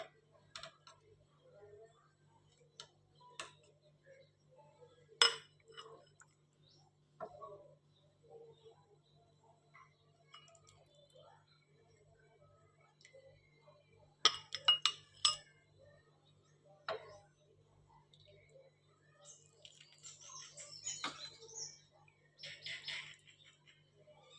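A spoon clinks lightly and irregularly against a pot and bowl as spicy stuffed eggplant curry, a traditional Maharashtrian dish, is served out, with scattered close taps and scrapes in an otherwise quiet kitchen.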